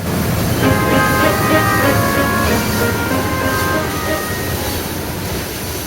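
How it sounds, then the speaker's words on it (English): A freight train rolls past nearby with a loud steady rumble of wheels on track and faint metallic squealing tones, fading slightly toward the end. "Sean and Caden departed with their freight train"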